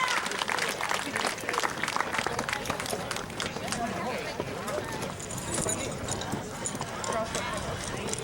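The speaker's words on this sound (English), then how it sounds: "Give him a huge round of applause." Audience applause at a heavy-load horse pulling contest at Bear Lake, a dense steady clatter of clapping that lasts throughout, mixed with crowd noise while an announcer talks over it.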